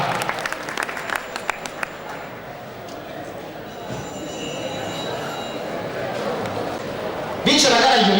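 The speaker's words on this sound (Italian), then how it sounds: "Eccoli qua, complimenti e applausi agli allievi secondo anno." An outdoor crowd applauding second-year riders at a cyclocross award ceremony in Vittorio Veneto, with scattered claps early and then a steady wash of clapping under continuous amplified talk.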